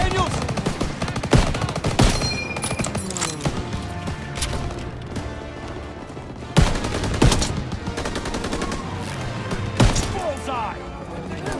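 Sustained World War II video game battle with rapid machine gun bursts and scattered gunshots, loud and close, repeating in waves over roughly twelve seconds with explosive booms and shouted voices mixed in.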